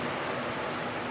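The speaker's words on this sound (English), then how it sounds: "Just give that a quick saute." Food sautéing in a pan with salt and pepper in an Italian steakhouse kitchen, a steady dense hiss of sizzling heard close and alone for a moment.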